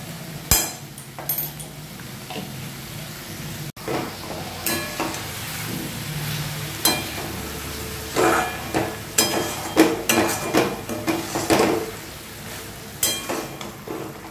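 Fish-head bottle gourd curry with ghee and garam masala stirred in a pan, with repeated scraping, clinking spoon strokes over a steady low sizzle, growing busier toward the end.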